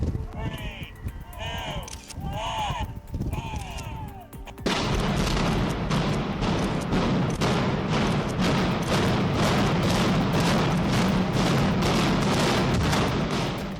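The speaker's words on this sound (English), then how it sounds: "thousands of people gathered at Argentia to witness the controlled explosion that destroyed the CBQ building." Controlled demolition blast bringing down the CBQ building at Argentia before a large crowd: a countdown voice first, then a sudden loud boom followed by a long rumbling, crackling roar of collapse.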